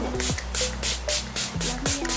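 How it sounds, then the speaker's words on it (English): Several quick hissing sprays from a face mist bottle in a row, close up, with faint background tones. "I'm going to spray this Glow Mist on before I go in with that"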